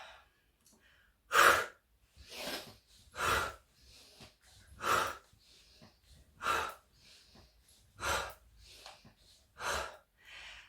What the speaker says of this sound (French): Et on va le faire avec une respiration tonifiante.